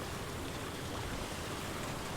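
Steady, dense rain hiss in the driving game Pacific Drive, a continuous even wash of falling water with no gaps and no speech.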